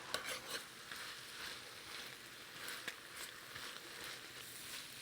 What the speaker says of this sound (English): Stir it in, and we'll mix all of this together.